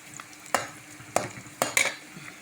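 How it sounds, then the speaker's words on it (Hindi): Potatoes and bitter gourd frying on medium flame make a soft steady sizzle punctuated by four distinct scraping stirs of a spoon against the pan, close and alone. "दरमियानी फ्लेम पे इसको तलेंगे"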